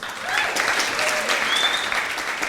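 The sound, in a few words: applause at election results announcement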